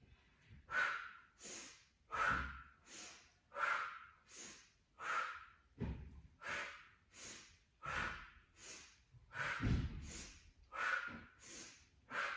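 Forceful exhalations during a Pilates criss-cross exercise, about nine sharp, breathy puffs in a steady rhythm roughly every one and a half seconds, close and clear with no talking.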